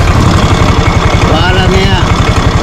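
A faulty Yamaha Mio scooter engine idles with a rough, rapid low thumping that resembles a generator, loud and close, with a brief voice over it.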